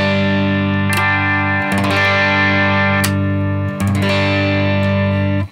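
A Donner DTC-100S Tele-style electric guitar through its neck pickup, strummed in loud sustained chords with a few sharp restrikes, ringing with effects and some distortion, with no voices.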